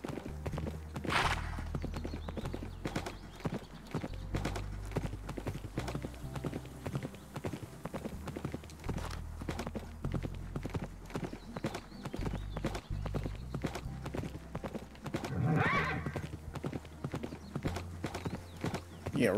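Horses in a Minecraft world trot and gallop during a race, giving steady clip-clop hoofbeats throughout with a brief whinny near the end, set against game music.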